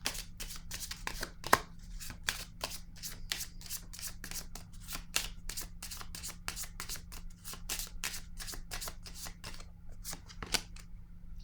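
Tarot cards are shuffled and laid down during a reading, heard as a steady run of crisp, close riffling slaps at an even rhythm over a low background hum.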